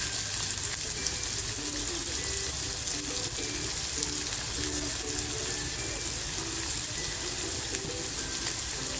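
Chopped onion frying in a little oil in a small pan, a constant soft sizzle and crackle with faint clinks, steady throughout and without talk.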